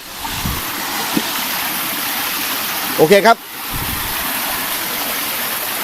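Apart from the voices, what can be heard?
Chan Sian waterfall, flowing water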